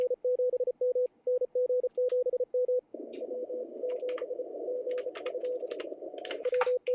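An amateur radio operator's Morse code CQ call during the CQ WW WPX contest: a steady keyed sidetone beeps in quick dot-dash rhythm, then gives way to noisy band hiss with a faint tone underneath, ending with more keyed beeps.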